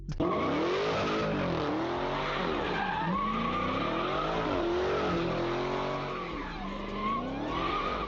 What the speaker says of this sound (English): this man was already doing donuts and burnouts in a parking lot